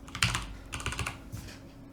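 Brief typing on a computer keyboard while entering a chat message, a short run of close, crisp key clicks in a few quick bursts, quiet and with no talk.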